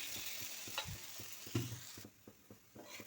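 Dosa batter made with maida sizzles on a hot pan in a village kitchen, a quiet hiss broken by clicks and scraping taps of a spatula, dropping softer toward the end.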